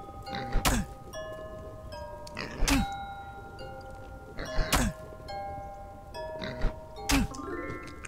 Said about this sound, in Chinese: 你只要对着怪物按下左键开始摇铃，然后它当然会反击啦